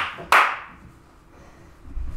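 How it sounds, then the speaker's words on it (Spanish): One sharp, loud clap, or a few hands striking at once, rings out near the start and quickly decays into a quiet room with faint low rumbling. "Listo, aplauso."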